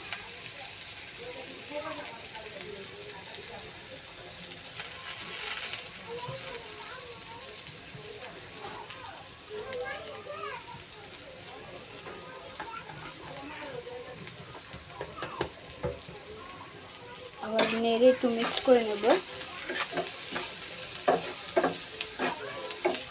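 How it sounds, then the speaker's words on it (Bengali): Potato and liver bhaji frying in a pan and being stirred: a soft sizzle plays under someone talking for most of the stretch, then swells louder near the end with quick spatula scrapes and taps. "এখন এটা হালকা একটু নেড়ে নেব"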